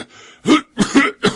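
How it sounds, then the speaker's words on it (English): A man coughs in three or four harsh, close bursts over about a second, each preceded by a faint breathy wheeze, with no talk. "How long have you had that cough?"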